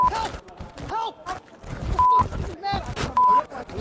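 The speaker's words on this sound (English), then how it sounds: "We're bleeping it out there." Short, steady electronic censor bleeps cut across heated shouting during a physical scuffle on a talk radio segment, two bleeps recurring over the loud, overlapping voices.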